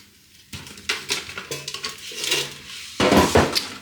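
Air fryer masala chips tumble into a foil tray in a few crinkly, rattling bursts, with light scraping and clatter close by between short pauses.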